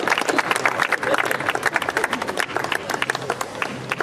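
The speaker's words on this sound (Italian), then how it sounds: "Un bel applauso" Loud, dense clapping from a lively crowd close by at an anniversary event in Bova Marina, with voices and cheers mixed in throughout.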